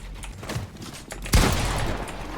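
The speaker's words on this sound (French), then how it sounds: "Je tire pour rien." Gunfire in the video game Fortnite, one sudden loud blast just over a second in followed by a sustained roar of firing, heard over a dense, noisy game background.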